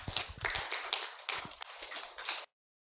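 Welcoming applause from a tea culture symposium audience for a visiting professor, a short burst of clapping that stops abruptly.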